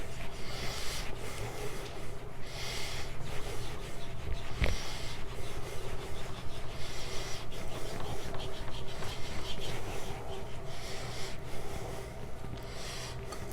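Knife steel is polished on a synthetic whetstone, making close, soft rhythmic scraping strokes that repeat evenly through the clip without talk.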